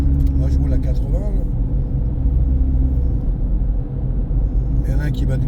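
A car driving at about 80 km/h on a snowy winter road in Quebec, a steady low engine and road rumble from inside the cabin, continuous and moderately loud, with a voice talking over it.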